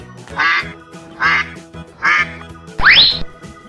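A duck quacks three times in an even rhythm, loud and close, followed by a sharp rising squeaky call.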